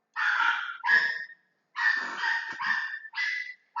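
Small dogs bark excitedly in a burst of sharp, high yaps, several quick barks in clusters with short pauses, fairly close and loud with no talk over them.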